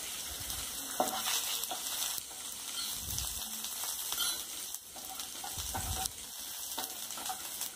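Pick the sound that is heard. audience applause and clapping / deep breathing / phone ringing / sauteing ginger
sauteing ginger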